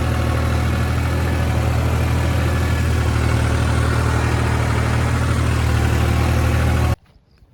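A 3630 tractor engine runs at 1500 rpm with an 8-foot rotavator in a field, giving a loud, continuous low rumble close by that cuts off abruptly at the end.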